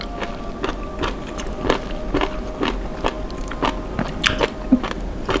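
Up close, a mouthful of jellyfish salad dressed with sesame oil is chewed in a steady rhythm of crisp, crunchy bites with no talking.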